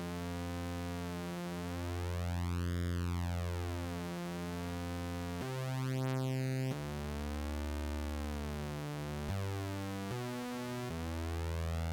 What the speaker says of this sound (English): this really kind of shines when you bring in a second oscillator, because now we're going to be moving this oscillator against the other oscillator.